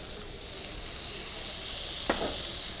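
Vegetables such as potatoes dropped into hot oil in a pan for veg corn pulao, giving a steady close sizzle with one brief louder hiss as they go in.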